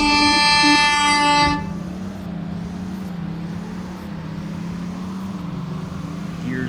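A 2024 Falcon Stallion EcoBoost in the Roblox game Greenville, with a loud, steady tonal engine note that breaks off after about a second and a half into a lower, continuous rumbling drone of spinning tires.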